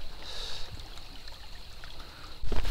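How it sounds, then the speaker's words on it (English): A small river trickles and gurgles through a forest of giant ferns, a close, uneven burble with a brief louder splash near the end. "This is cool. I like this little river."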